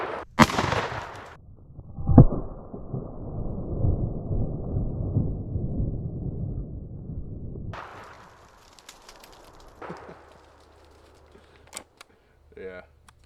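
Two sharp, loud blasts from a Stoeger Double Defense side-by-side 12 gauge shotgun ring out outdoors, the first rolling into a long echoing rumble that fades over several seconds, followed by faint clicks and handling noises.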